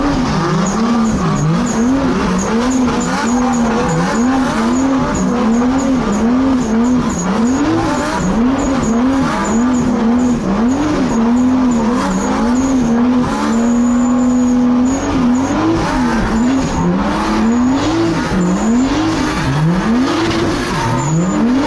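A car with a single-turbo Toyota 2JZ VVTi engine on a dyno revs loudly and repeatedly, its pitch climbing and dropping in a rapid, rhythmic cycle over a constant mechanical roar, with no voices.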